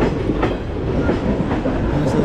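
Hussain Sagar Express rolling out of Kalyan station after a short stop, a steady rumble of moving rail cars with faint rhythmic wheel clatter throughout, heard from on board, no talking.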